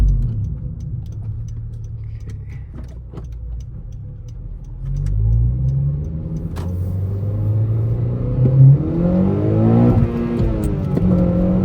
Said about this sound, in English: So easy to downshift.